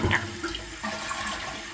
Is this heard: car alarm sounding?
no